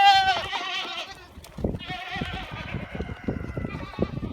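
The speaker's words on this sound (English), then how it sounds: "Let's go, goats." A herd of goats bleats near a garden gate, several wavering cries overlapping in quick succession, fairly close and loud against outdoor noise.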